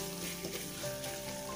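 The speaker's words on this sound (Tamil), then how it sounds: "இது கொஞ்சம் ஒரு 2 மினிட்ஸ் நமக்கு ஒரு மீடியம் ஃப்ளேமில் வச்சு வதக்கிக்கிங்க" Close, steady sizzling of masala paste frying in hot oil over medium flame, soft and continuous with faint crackles.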